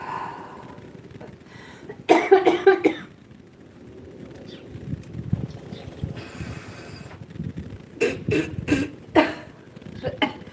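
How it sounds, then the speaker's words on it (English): Harsh bursts of coughing after dabbing concentrate, close to the mic: one hacking fit, a quieter lull with throat noises, then another cluster of sharp coughs. "the more I dab, the more I'll cough, especially when it's back to back"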